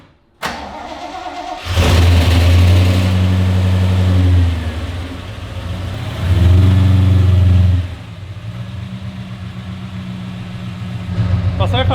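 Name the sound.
Holden HQ car driving on test drive after diff install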